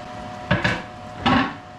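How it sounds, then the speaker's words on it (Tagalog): Chopped onion and pechay leaves stirred in a frying pan, two short, fairly close scraping strokes against the pan with a brief pause between them. "Ihalo ko na itong sibuyas bombay at saka yung dahon ng pitsay."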